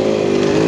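Close, loud and steady engine drone from a motorcycle being ridden, holding an even pitch throughout the brief moment.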